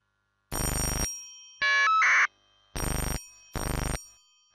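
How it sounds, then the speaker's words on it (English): A roughly 70-year-old telephone rings in three short electronic bursts separated by silences, with a brief higher beep tone in between. "Now I try to call the old phone with a modern one."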